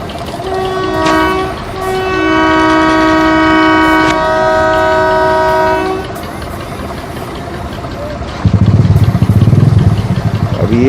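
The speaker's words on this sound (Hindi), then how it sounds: "इतनी स्लो आ रही है ट्रेन भी जनाब की, अल्ट्रा स्लो आ रही है" A train creeps slowly into a station in Pakistan and comes to a stop, its long sustained horn blasts sounding near and loud before a heavy rumbling burst toward the end.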